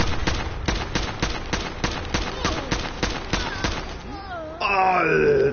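Fatboy launcher shots in a video game: a rapid string of sharp blasts pops at an even pace, then fades into wailing and a louder, sustained burst of tones near the end.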